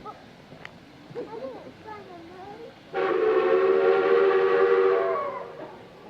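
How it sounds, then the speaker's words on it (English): A long, loud train whistle sounds after a moment of speech, holding steady for a couple of seconds before fading as the train rumbles away. "So the guard blew his whistle and waved his green flag."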